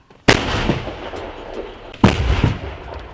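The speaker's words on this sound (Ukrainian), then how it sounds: "Постріл!" Two loud, sharp artillery gun blasts in combat about two seconds apart, each with a sudden crack followed by a long rolling rumble.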